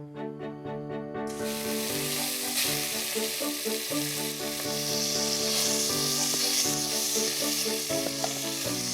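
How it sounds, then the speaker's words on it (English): A loud, steady sizzle of beef browning in a hot pan starts after a moment and crackles on, with tuneful music playing underneath. "I'm going to fry it, first of all, until it's a gorgeous golden brown colour"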